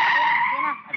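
Car tires screech as a vehicle skids to a stop in a 1982 Hindi action film, a loud, sustained squeal lasting about a second with voices overlapping.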